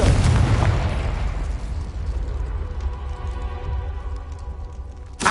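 A Confringo explosive spell in Hogwarts Legacy goes off with a loud, booming burst that rumbles and crackles, then fades into a lingering mechanical rumble, ending with a short sharp pop.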